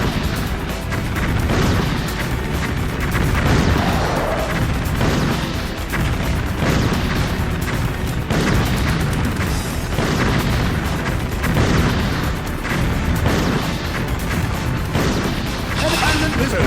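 Rocket launcher explosions in the video game Metal Slug 3D burst in a rapid, relentless string of loud booms and crashes layered over dense game noise, with no pause.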